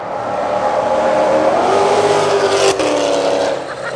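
A Duramax 2500 pickup truck speeds past on a NASCAR track, a loud continuous engine and tire roar that stays strong, then shifts and dips as it goes by.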